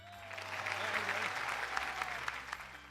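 Audience clapping on a Malayalam television game show after a voice impression, a dense burst of applause sustained for a few seconds at steady volume.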